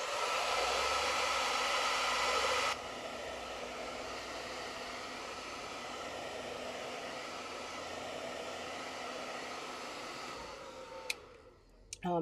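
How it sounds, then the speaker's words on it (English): A blow dryer drying an art project runs steadily close by, with a loud airy whoosh that drops to a lower setting after a few seconds and keeps going until it clicks off near the end. "And so now I'm going to blow dry again one more time."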